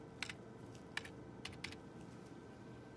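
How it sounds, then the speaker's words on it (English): Computer keyboard being typed on to enter a sample ID at a lab hematology analyzer (ABX Pentra 60c+): a handful of sparse, light key clicks spread over a few seconds, faint and alone with no talk. "we're just going to type in your sample ID, type in your patient name"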